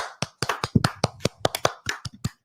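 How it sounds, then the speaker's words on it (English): Fast, sharp claps from a small group at a casual livestream gathering, about a dozen close-miked strikes in quick irregular succession with short gaps between them. "fast clap"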